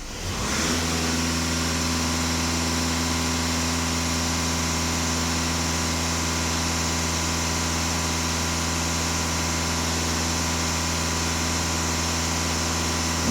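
A Volkswagen Passat B8 diesel engine fitted with a soot particulate filter and EGR system idles at a steady, even hum, heard up close for the whole stretch with no voices over it.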